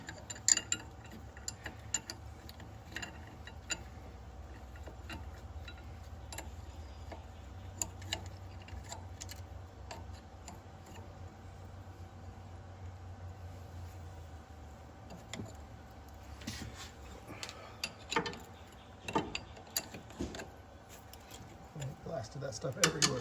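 A wrench turns on an RV compressor, giving repeated sharp metallic ticks and clicks at an irregular rhythm, close and fairly quiet, with denser clicking toward the end over a low background hum.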